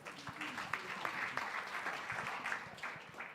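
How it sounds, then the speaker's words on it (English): An audience applauds at the 3rd Annual East African Court of Justice judicial conference, a steady wash of many hands clapping throughout, moderately loud and close, with no speech over it. "Let's give them a clap again."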